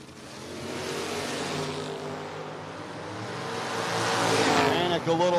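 Drag race cars rev and launch down the racetrack at a no-box 660 shootout, the engine roar swelling loudly near the end beneath steady announcer commentary.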